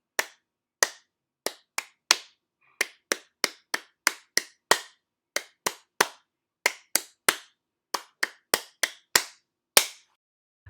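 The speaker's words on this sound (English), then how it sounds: "Can you just clap without the syllables?" Crisp single hand claps beat out a rhythm pattern during a lesson, about two dozen sharp, close claps in grouped bursts separated by short silences, with no voices.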